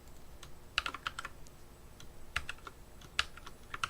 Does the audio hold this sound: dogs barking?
no